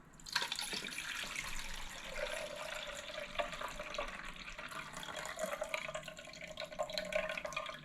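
Fresh juice streams steadily into a container while a juicer runs, a close, trickling flow with small splashes and drips that continues for several seconds without pause.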